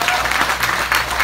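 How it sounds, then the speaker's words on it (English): Applause from wedding guests greeting the newly married couple, a dense, steady patter of many hands clapping close by, with no voices over it. "Let us give a round of applause."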